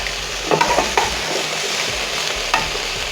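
Bacon (tocineta) sizzles steadily in a hot pan, a loud continuous crackling hiss, with a few scraping stirs of the utensil against the pan.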